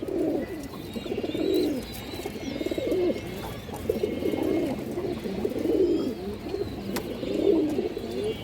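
A breeding pair of pigeons coos in a steady rhythm, each rolling coo close and clear, repeating about every second with no talk over it.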